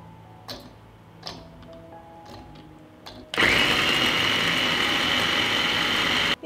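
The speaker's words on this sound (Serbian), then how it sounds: "I usitnit ću je u secku." An electric food chopper mincing a hot pepper: a few soft taps, then a loud, steady motor whir starts abruptly and runs for about three seconds close by before cutting off.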